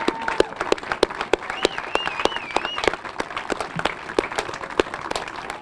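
An audience applauds artists at an outdoor evening art walk, a dense steady round of clapping from a nearby crowd with no voices over it.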